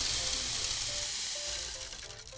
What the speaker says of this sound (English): That's a good rain stick.